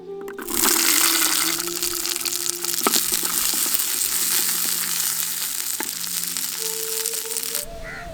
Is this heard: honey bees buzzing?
no